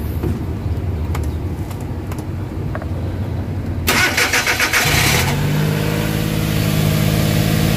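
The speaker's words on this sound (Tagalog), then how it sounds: "So try natin, i-start natin yung yung makina." A Suzuki K6A car engine, just reassembled after a general overhaul, cranks and catches, then settles into a steady close idle after a few seconds of quieter background, with no talking.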